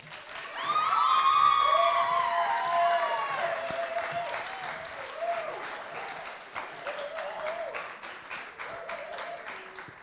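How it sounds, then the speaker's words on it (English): An audience at a 2021 scholarship pageant in St. George applauds and cheers, with loud, dense clapping and high whoops near the start that slowly thin out but keep going throughout. "Let's give them a round of applause."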